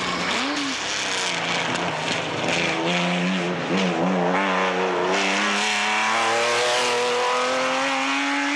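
A Daytona Group 4 race car, weighing about 1.4 tonnes, at speed during the Tour Auto 2006, its engine a loud continuous roar heard from inside, with pitch swooping through gear changes before climbing steadily under acceleration.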